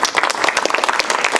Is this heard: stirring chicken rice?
no